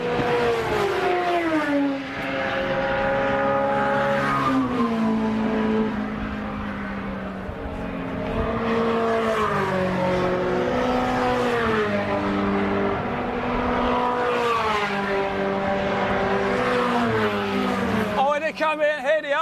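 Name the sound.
MG Cup race car engines revving at Silverstone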